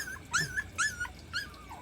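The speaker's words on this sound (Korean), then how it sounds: "저기 두 마리는 지금 못 올라오고 낑낑거리고 있는데" Young country puppies whimper and yip in short, high-pitched bursts, about three close whines with a faint growl underneath, stuck at the bottom of outdoor stairs they cannot climb.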